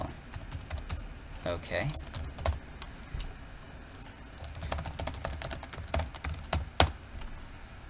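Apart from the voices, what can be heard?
typing on a computer keyboard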